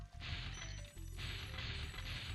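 Crates smashed open in the Spyro the Dragon video game, a run of dense crunching crash bursts over continuous game music, briefly dipping before another loud smash.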